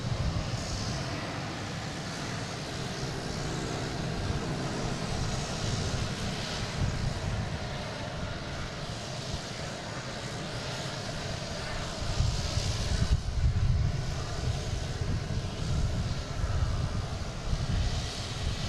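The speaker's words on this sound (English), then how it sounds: "And the JetBlue landing on 4 left," A JetBlue airliner arriving from JFK lands on runway 4 Left at Boston Logan International Airport, a loud sustained jet engine roar that swells and grows rougher late in the stretch, heard from nearby without talk.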